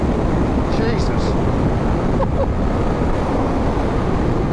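Steady roaring wind blast buffets the microphone while riding a fully naked Triumph Street Triple motorcycle, a loud continuous rush with the engine faintly underneath.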